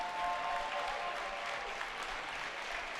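Steady, sustained applause from an arena crowd after a high-school 106-pound wrestling championship final, a dense wash of clapping that holds evenly throughout with no voices standing out.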